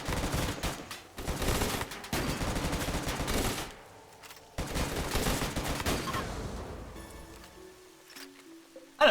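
Rapid bursts of gunfire from colonists in the video game RimWorld sound in several stuttering volleys separated by short pauses. The shooting is moderately loud and dense before it thins out near the end.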